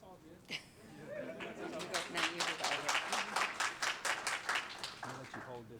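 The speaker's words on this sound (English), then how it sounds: "You all can clap." Audience clapping at a Seattle school board special meeting as a district appointee comes forward, rhythmic applause building after a moment of talk, with light laughter and chatter mixed in.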